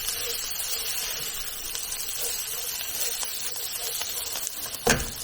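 Lightly salted chicken pieces sizzle steadily in a hot pan, a constant loud frying hiss, with a few soft scrapes from stirring and one sharper clack near the end.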